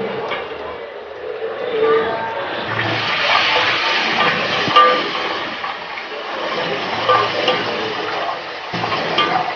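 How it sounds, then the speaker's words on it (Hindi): Water poured into hot frying masala for beef trotters (paya) gives a steady, broad sizzle and bubbling hiss that stays close and fairly loud throughout, with light clinks of a pan. "अब इसमें थोड़ा सा हम पानी डाल देंगे ताकि ये नीचे जले ना"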